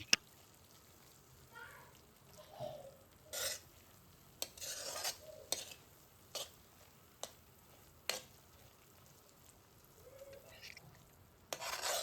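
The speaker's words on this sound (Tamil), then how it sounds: "நல்லா வதக்குங்க. எண்ணெய் பிரிஞ்சு வர வர வதக்கணும்." Masala filling for ragi masala dosa sautéed in oil in a pan, with faint sizzling under a series of short, sharp spatula scrapes and stirs spaced irregularly throughout.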